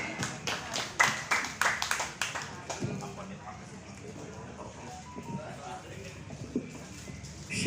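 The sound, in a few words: audience clapping for Bang Haji Nur Ali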